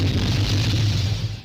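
A loud, deep rumbling explosion in the F-Zero GX racing game as a machine blows up on re-entry after skipping a checkpoint near the ice patches, sustained before cutting off abruptly.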